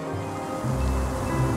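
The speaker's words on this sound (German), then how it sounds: "Das Wasser kann bis zu 50 Meter weit spritzen." A fire engine's water cannon sprays water in a steady, loud rushing hiss, backed by a low rumbling roar.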